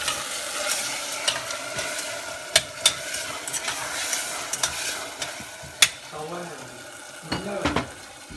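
Ginger and chillies sizzle in oil in a pot for Surti-style vaghareli khichdi, a steady close frying hiss broken by sharp metal spoon clinks and stirring scrapes.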